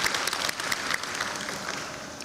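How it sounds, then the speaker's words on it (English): An audience at a university lecture and white coat ceremony breaks into steady applause, a dense wash of clapping heard close and sustained, with no talking. "So let's give them a round of applause."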